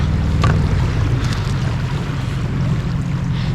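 A steady low boat motor drone runs continuously, with wind and rushing water noise washing over it, on a river in winter.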